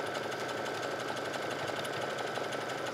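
Sewing machine running continuously while stitching the folded-over elastic casing along the bottom of a pair of leggings, a steady, dense, even mechanical whir held at constant speed close by, with no talk.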